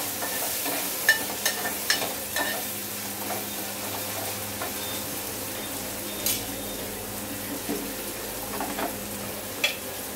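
Onion sautéing in hot oil for tempering in a home kitchen, a soft continuous sizzle under scattered sharp clicks and scrapes of a spoon stirring the pan, moderately close.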